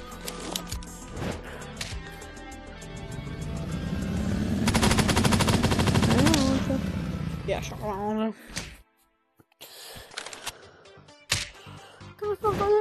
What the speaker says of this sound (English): A gun.